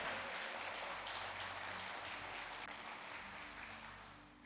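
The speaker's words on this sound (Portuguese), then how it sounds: "Então dá uma salva de palmas para Jesus." A church congregation claps together in a sustained wash of applause that gradually fades out.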